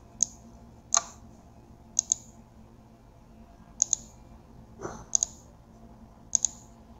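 Sharp mouse clicks on a computer running LibreOffice Impress, arriving singly and in quick doubles at irregular moments, close and crisp over a quiet background.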